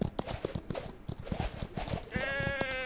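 Sheep bleating in the Old West video game Outlaws of the Old West, a few short bleats over hoof clip-clops and game noise, ending in a sustained, louder bleat.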